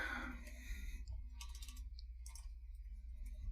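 Keys clack on a computer keyboard at a fantasy football mock draft, light irregular taps and clicks close by over a low steady hum, with no talking.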